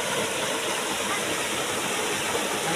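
Strong rushing waterfall at Corte Carmen in Cebu, a loud continuous broadband roar of falling water filling the scene without break.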